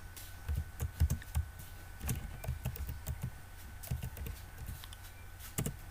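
Fingers type on a computer keyboard while filling in a product description during a WooCommerce web class. The keystrokes come in irregular bursts of close, crisp clicks with short pauses and no voice.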